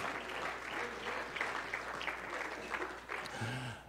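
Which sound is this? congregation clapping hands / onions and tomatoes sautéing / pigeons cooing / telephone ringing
congregation clapping hands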